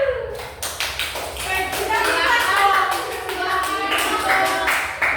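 A school class in a microteaching physics lesson claps for a winning team. Dense, quick hand claps and taps start after a brief voice and go on steadily and fairly close, with children's voices mixed in.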